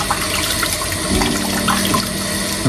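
Food is washed under a running kitchen tap, with a loud, continuous, close splashing stream of water that barely changes throughout.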